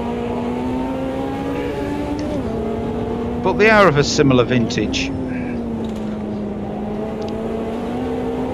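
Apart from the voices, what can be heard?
Ferrari 330 P4 race car engine in AMS2 video game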